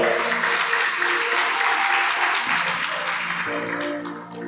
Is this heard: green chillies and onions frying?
no